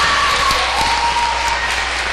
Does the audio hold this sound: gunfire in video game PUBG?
no